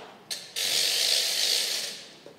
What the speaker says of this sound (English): the ratchet,